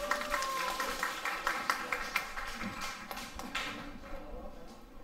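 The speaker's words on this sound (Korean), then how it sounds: "신명 가수님 여러분 큰 박수로 환영해 주십시오" Audience applause with dense clapping at a community anniversary celebration concert and talent show, welcoming a singer onto the stage; steady and fairly close, tapering slightly toward the end.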